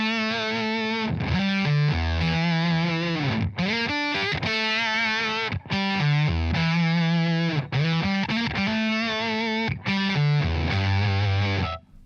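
Electric guitar through a Behringer Super Fuzz pedal plays loud, thick distorted chords and sustained notes in a rock style, with short breaks between phrases and no voices.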